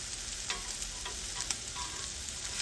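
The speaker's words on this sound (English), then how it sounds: "Just want to brown them on each side" Pork chops brown in a hot pan, giving a faint, even sizzle and frying hiss throughout with a few small pops and no voices.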